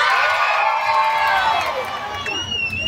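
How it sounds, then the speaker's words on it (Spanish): Crowd cheering and whooping for a contestant in a competition, a loud, sustained burst of shouts and cheers from the audience with a few whistles near the end. "¡Aplauso para ella!"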